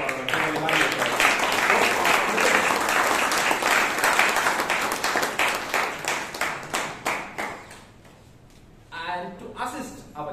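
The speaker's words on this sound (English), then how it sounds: "please give a huge round of applause for our evaluator" An audience at a Toastmasters meeting in Bangalore breaks into sustained, dense applause welcoming the evaluator, loud and steady at first, then thinning into scattered claps that fade to near quiet before a few more bursts.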